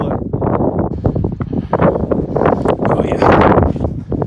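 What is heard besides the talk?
wind blowing on a mountain summit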